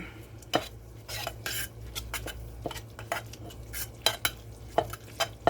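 Tuna with lemon rind is mixed in a bowl, a utensil tapping and scraping the sides in sharp irregular clicks over a low steady background hum, close but quiet.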